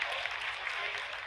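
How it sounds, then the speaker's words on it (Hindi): Applause fills a mission control room during a lunar landing's vertical descent phase, a dense, steady wash of many hands clapping at close range with no clear voices. "Lot of applause indicates that till now the performance has been nominal."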